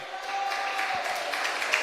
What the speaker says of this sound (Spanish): Dele otro aplauso al Señor en esta hora.